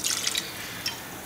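Water poured lightly into a pot of mutton nalli elumbu (bone marrow) gravy, a brief splashy trickle that fades after a short burst, heard alone and close.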